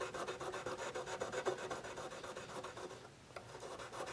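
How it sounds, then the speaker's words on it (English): Fine 1000-grit sandpaper rubbed over the frets of a Yamaha SG331 electric guitar, fitted with a fret guard, makes a steady, close, rhythmic raspy scrubbing for several seconds, easing briefly near the end before resuming. "here I got my fret guard and a little 1000 grit sandpaper, and I'm just shining up these frets a little bit"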